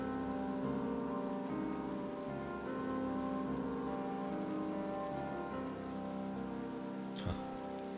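Steady rainfall in Minecraft, a continuous soft hiss of rain on surfaces with no break, with a brief faint knock near the end.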